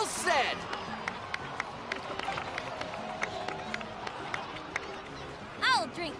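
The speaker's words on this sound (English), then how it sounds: "please give another round of applause for them" In the Genshin Impact game, set in Natlan, a crowd claps and cheers in a scattered, lively burst at moderate distance, mixed with background chatter, with brief chirpy effects near the start and end.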